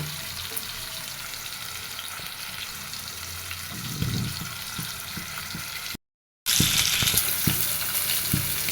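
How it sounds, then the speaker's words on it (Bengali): Rohu fish pieces frying in oil make a steady close sizzle with occasional stirring knocks; a brief dropout near the middle is followed by louder frying. "মাছগুলো ভাজি করা হয়ে গেছে"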